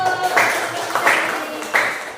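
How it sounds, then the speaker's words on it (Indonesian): A classroom group in a teacher-training session claps in unison three times, each a short, crisp burst of many hands roughly evenly spaced, with faint room noise between. "Oke, kita tepuk tangan dulu."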